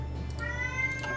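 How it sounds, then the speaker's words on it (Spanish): A cat meows indoors, a faint, high, drawn-out call heard alone over a low steady hum of background noise. "Eso igual ha sido la gata, perdón."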